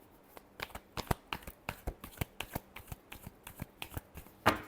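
A deck of tarot cards shuffled in a last round, a steady run of crisp, evenly spaced flicks and riffles close by, ending in a slightly louder snap.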